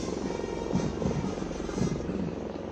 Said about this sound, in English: On the skyline, helicopters of 603 Independent Aviation Brigade are approaching the saluting dais.